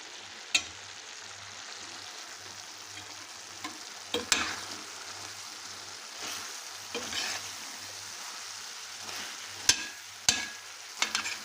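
Onions fry for kavurma with a steady soft sizzle while a spoon stirs and scrapes the pan now and then, with occasional clinks; no talking.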